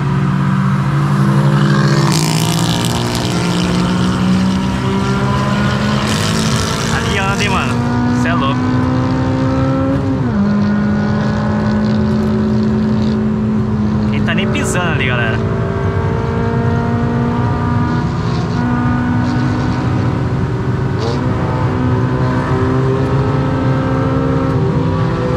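A BMW M4 driving and passing, heard as a loud, sustained engine note that rises and shifts in pitch as it revs and goes by, with road noise throughout.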